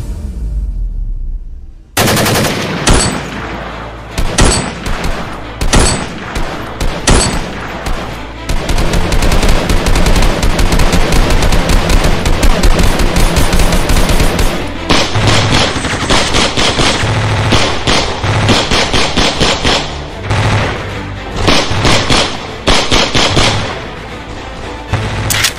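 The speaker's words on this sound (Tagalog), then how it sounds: "At sa udyat ni Kapitan David, pinaputukan nila ang mga ito." Soldiers in a radio drama open fire, with loud, dense gunfire: scattered single shots at first, then sustained rapid machine-gun bursts and booms that continue throughout.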